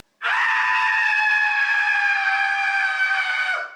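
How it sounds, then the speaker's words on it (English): Takamura, a character in the video game Cyberpunk 2077, lets out a loud, sustained scream lasting several seconds, strained and harmonic-rich, holding steady before cutting off abruptly. "Takamura screaming in my ear the whole time"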